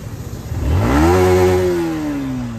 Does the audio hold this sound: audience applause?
no